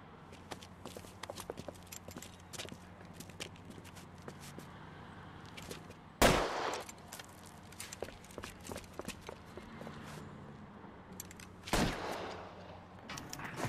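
Video game shootout with a masked gunman on a rooftop: rapid bursts of gunfire and scattered footsteps run throughout, with two louder sharp blasts standing out, all over a low background hum.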